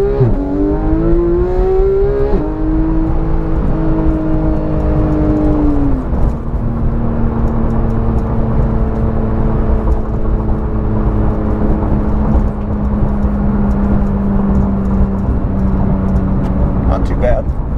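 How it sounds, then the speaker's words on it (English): A Porsche 911 GT3 of the 991.1 generation, with its exhaust valves held fully open, roars through a full-throttle pull heard from inside the cabin. The rising engine note climbs loudly, settles into a steady drone, and a voice talks over it. "Straight exhaust sound now, no valve transition."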